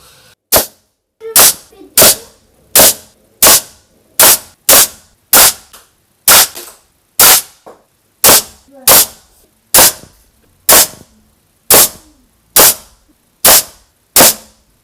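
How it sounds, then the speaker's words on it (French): A long series of sharp, evenly spaced shots from a Dan Wesson 715 4.5mm air pistol with a 4-inch barrel, fired into ballistic gel, loud and close, about two per second with brief pauses between groups. "petite séance de tir avec le Dan Wesson 715 en canon 4 pouces"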